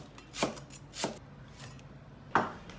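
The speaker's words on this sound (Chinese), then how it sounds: "切点芹菜，切段。" Knife chopping celery into segments on a cutting board, three distinct sharp chops spaced unevenly, close and clear with no talk.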